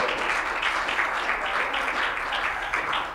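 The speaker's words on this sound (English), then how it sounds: "Let's give him a round of applause here." A concert audience at a songwriters' benefit claps for the master of ceremonies, a steady wash of many hands lasting about three seconds and easing slightly at the end.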